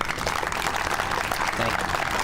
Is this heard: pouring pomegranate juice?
no